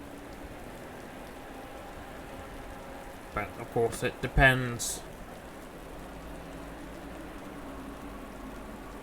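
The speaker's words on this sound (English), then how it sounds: "as it's raining, it's going to be treacherous conditions" Rain falls during a GT3 race at Zandvoort in the sim racing game Assetto Corsa Competizione, a soft steady hiss under a brief stretch of talking midway, with a faint low engine drone beneath.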